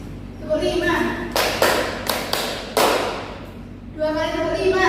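A classroom group claps a counted hand pattern together, several loud broad bursts of unison clapping in quick succession, with murmured voices and chatter before and after.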